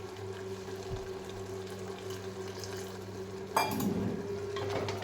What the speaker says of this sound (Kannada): ಒಂದು ಸ್ವಲ್ಪ ನೀರು ಹಾಕೋಣ.